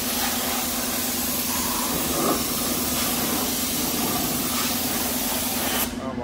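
A diesel wash machine runs inside a paint booth with a steady, loud pressurised spray hiss and a constant low mechanical hum, cutting off abruptly at the end.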